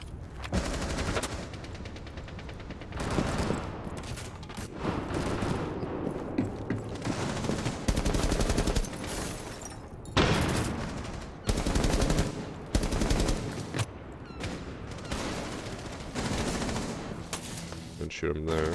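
Rapid automatic gunfire from a Rainbow Six Siege ranked match, bursts of loud close shots in repeated clusters with short pauses between them, continuing across the whole stretch.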